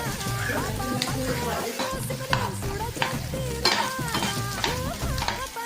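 Onion, capsicum and sweet corn with ginger garlic paste frying in a pan with a steady loud sizzle, broken by repeated stirring scrapes and clinks of a spoon against the pan, while a voice talks over it.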